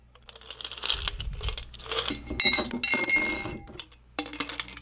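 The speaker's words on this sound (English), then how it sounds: "So I'm just putting a few in each vase." Small stones being dropped by hand into glass flower vases, a few per vase, giving a cluster of sharp clinks and rattles in bursts with short pauses between them.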